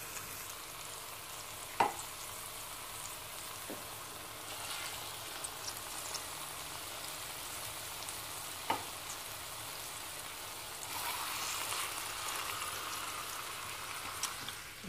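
Pieces of veal laid onto onions in a tajine give a steady, fairly quiet sizzle with a few sharp clicks and taps, and the frying swells a little louder near the end.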